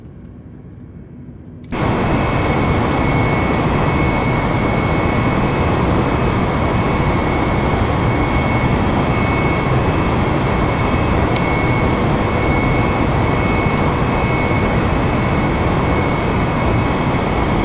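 Jet engines spooling to takeoff thrust in Microsoft Flight Simulator, a sudden jump from quiet to a loud, sustained broadband roar with a faint steady whine, continuing unbroken to the end without speech.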